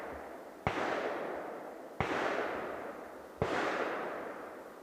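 Three heavy gunshots from a large firearm at an outdoor shooting range, distant, each a sharp crack followed by a long rolling echo, spaced about one and a half seconds apart, no talking.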